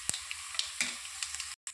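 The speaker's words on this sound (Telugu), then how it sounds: "ఇప్పుడు ముందుగా సిద్ధం చేసి పెట్టుకున్న మన పోపు దినుసులన్నీ కూడా వేసేసుకుందాం" Tempering spices crackling and sizzling in hot oil, a steady fry with sharp pops and light stirring clicks, close up, with no voices.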